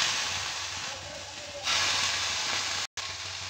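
Prawns fry in oil in a pan for a mustard prawn dish, giving a steady, soft hiss that swells louder partway through and cuts out for a split second near the end.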